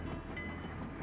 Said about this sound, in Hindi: तुम्हें सुनाई दे रही है ट्रेन की आवाज?